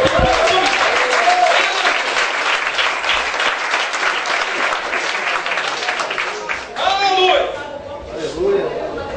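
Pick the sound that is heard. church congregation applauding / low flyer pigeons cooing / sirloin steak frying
church congregation applauding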